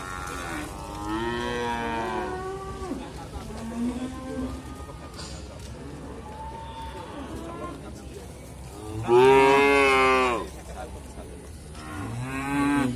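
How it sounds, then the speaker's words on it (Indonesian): Limousin cattle moo repeatedly at a livestock market in Grabag, Magelang, several drawn-out calls close by, with one especially loud bellow, over a soft, steady patter like rain. "Dan untuk rata-rata jenisnya adalah bakalan sapi limosin."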